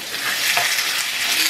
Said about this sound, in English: You guys want that little sizzle sound